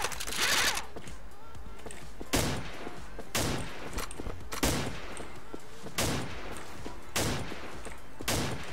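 Single rifle shots from an HK417 in a shooter video game, fired one at a time at a slow, steady pace of about seven sharp cracks, loud and close, with faint mechanical clicks between them.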